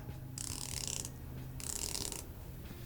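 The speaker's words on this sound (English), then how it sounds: "Bezel action is really good." The rotating bezel of a titanium Helson Shark Diver watch is turned in two quick bursts of fine, rapid ratcheting clicks, quiet and close up, with no talking.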